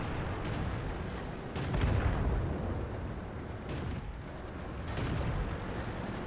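A Centurion 7.1 tank gun fires in World of Tanks and lands a heavy hit, giving deep booming blasts with rumbling tails at close range against a dense battle background, with no talking.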